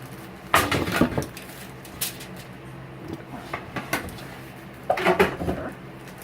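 A pan is handled while Steak Diane is being cooked, giving a few close clattering metal knocks and scrapes in separate bursts over quiet kitchen background.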